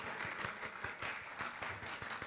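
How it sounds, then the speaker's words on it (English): A seminar audience at an international technical session gives a sustained round of applause, dense and fairly distant, a steady wash of many hands clapping for the whole stretch without pause. "Let's give yourself a huge round of applause."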